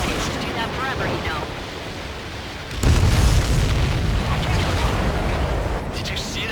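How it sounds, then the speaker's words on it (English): An explosion in the jet combat game Ace Combat 7 erupts as a sudden loud broadband boom, then a sustained roaring rumble that persists over continuous game noise and radio chatter. "Did you see that explosion?"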